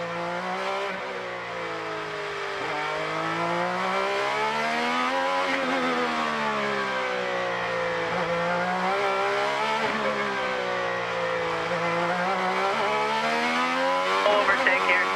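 Onboard engine sound from the number 60 IndyCar during a race on the St. Petersburg street circuit, a loud continuous whine rising and falling with throttle and gear changes across the whole stretch.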